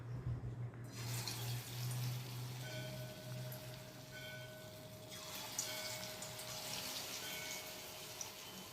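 Small pieces of kneaded dough for a bhujia-style snack dropping into hot oil, starting a steady broadband sizzle that swells louder and fuller partway through, with no talking.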